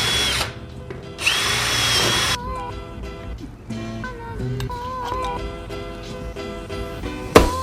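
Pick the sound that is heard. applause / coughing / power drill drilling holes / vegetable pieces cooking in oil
power drill drilling holes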